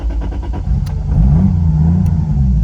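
Single-turbo 1JZ engine swapped into a Lexus IS300 drift car, idling lumpy and close before a couple of sharp throttle blips swell the revs and settle back.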